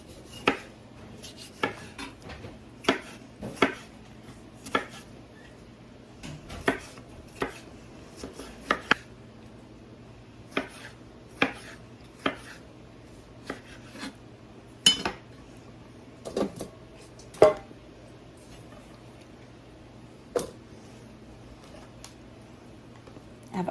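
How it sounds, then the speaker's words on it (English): A knife dicing tomatoes on a cutting board in a home kitchen, irregular crisp chops and taps in short bursts with pauses between, close and clear over a faint steady hum. "We'll start dicing up the tomatoes."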